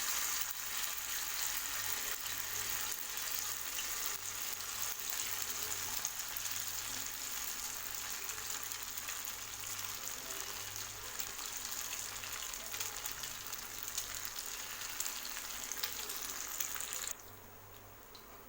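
Masala-coated fish fries in hot oil on a dosa pan over a medium flame, giving a steady, close, even sizzle that runs without a break and drops suddenly near the end.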